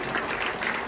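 Brief burst of audience applause for the musicians at an Abhangrang 2025 Kathak and music programme, a dense steady wash of many hands clapping with no voices.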